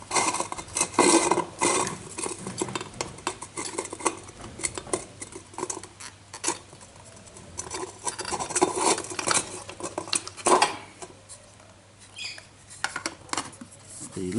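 An MSR Reactor stove is packed into its pot, with close, light metallic clinks, taps and scrapes as the parts slot together, irregular and fairly soft, interrupted by brief pauses.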